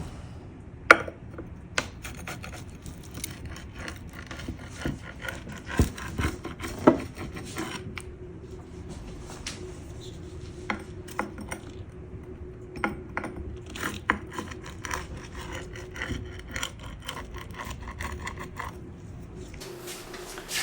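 A knife cuts through a baked tomato tart with repeated soft rasping and crunching strokes, irregular and fairly close, over a quiet room, with a few sharper clicks against the dish.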